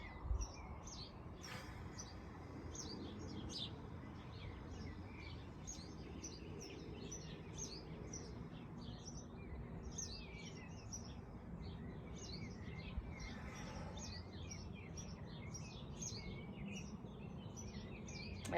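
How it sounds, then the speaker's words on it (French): Many birds sing and chirp together outdoors in a field, a dense, continuous chorus of overlapping calls over a steady low background rumble, with no talking. "Il y a vraiment une symphonie des oiseaux qui m'accompagnent pour cette application."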